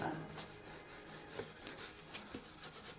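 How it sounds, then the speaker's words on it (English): Steel wool rubs over an oiled mimosa wood turning, a faint rhythmic scratchy swishing repeating several times a second with quiet bumps. "I think the steel wool does a good job on those subsequent coats"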